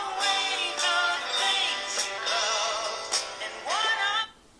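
Music with sung or melodic lines plays through the small stereo speakers of a Samsung Galaxy Tab 3 10.1 tablet near maximum volume, cutting off abruptly near the end.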